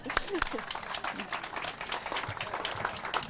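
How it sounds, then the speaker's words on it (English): A round of applause from the gathered crowd at a groundbreaking ceremony for a new city school in Murfreesboro, scattered clapping mixed with voices and bustle, fairly soft and distant. "Give them a round of applause, please."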